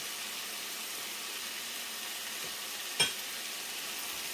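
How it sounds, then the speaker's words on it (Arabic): A filling of garlic, onion and harissa sizzles in a pan with a steady frying hiss while it is stirred, and a single clink of a utensil lands near the end. "غادي نحركوا هاد المكونات مزيان حتى كتخلط وكتجانس وكتدخل مع بعضياتها."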